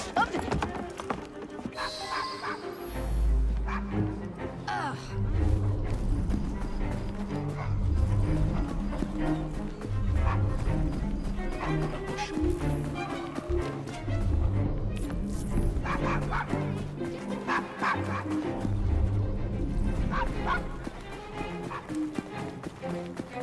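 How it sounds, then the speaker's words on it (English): A dog in the video game Assassin's Creed Syndicate barks repeatedly at mid distance, mixed with horse hoof clip-clops and street bustle while characters talk over it. "Shut up, dog!"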